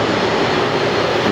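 A passenger airplane at Atlanta airport roars steadily and loudly, a continuous broadband engine rush with no pauses.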